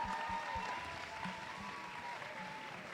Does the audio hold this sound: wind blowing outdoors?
no